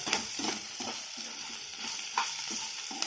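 Chopped onions with salt sizzle in a pan for a leafy greens stir-fry, a steady hiss broken by repeated scraping strokes of a spoon stirring at a regular pace, close and alone without talk.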